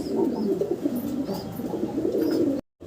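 White pigeons coo softly in low, repeated throaty calls, close by and fairly quiet, with faint background ambience and no talk.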